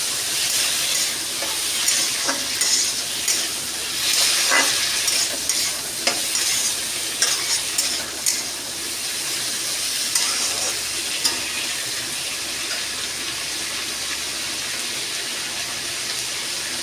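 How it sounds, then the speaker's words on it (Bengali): A constant hiss of frying in hot oil, with occasional scraping taps of a stirring utensil against the pan, steady and close with no voices. "তেল গরম হয়ে গেছে, ভালো করে ভেজে নেব।"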